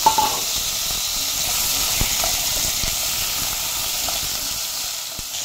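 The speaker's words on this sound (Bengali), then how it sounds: "যে তেলটা আছে আমি এর মধ্যে এখন দিয়ে দেব আলুগুলোকে একটু ভেজে নেব" Potatoes frying in hot oil, a steady close hiss and sizzle with a few small pops, heard alone without talk.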